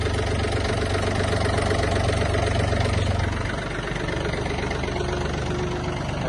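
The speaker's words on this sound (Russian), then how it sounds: "Трактор работает чисто, хорошо." A Yanmar AF-24 compact Japanese mini tractor's diesel engine idles steadily and loudly up close, with a slight drop in its low rumble partway through.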